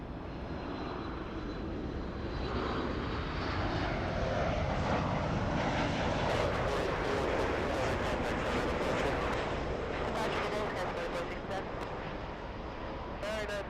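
Airliner jet engines roar steadily during a landing at Los Angeles airport, a loud sustained rush that swells and holds, with radio chatter between tower and pilots heard over the engine noise.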